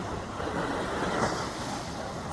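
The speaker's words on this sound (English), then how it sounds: "It's very high tide right now. The water's coming up above my shorts." Ocean waves at high tide washing around someone standing in the water, a continuous broad rushing surf with wind buffeting the microphone, loud and close throughout.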